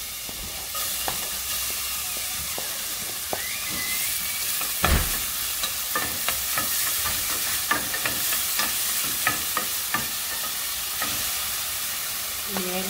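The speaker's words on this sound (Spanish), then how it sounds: "Ahorita los voy a guisar con un poquito de aceite." Chopped tomatillo and onion fry in hot oil in a pan for chicken enchiladas, a loud, steady sizzle and hiss broken by sharp clicks and scrapes of a utensil, close and continuous without voices.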